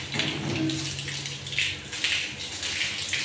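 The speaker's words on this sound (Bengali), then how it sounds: "জলটা কিন্তু দেখুন ফোর্স আছে" Water runs forcefully from a tap onto a floor near a porcelain basin to wash out dirt, a close, splashing gush that rises and falls in bursts without speech.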